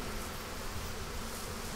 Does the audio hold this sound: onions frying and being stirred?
no